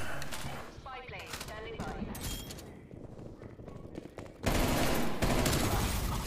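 Rapid hip-fire bursts from a first-person shooter video game crackle in quick volleys, joined by a voice partway through, before a louder sustained stretch of gunfire noise closes it out.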